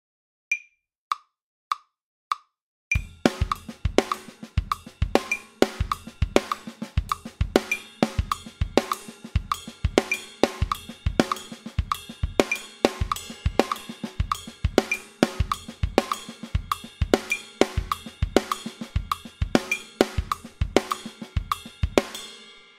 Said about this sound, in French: je vous fais tout de suite découvrir l'incroyable songo en commençant par vous en jouer un exemple